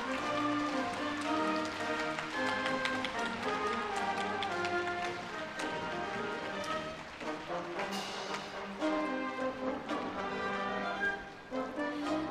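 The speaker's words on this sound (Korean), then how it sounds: "다시 한번 박수 부탁드립니다." Crowd clapping fills the hall at the Korea University 2018 freshman entrance ceremony, a busy, rain-like patter of applause running continuously alongside loud ceremonial music.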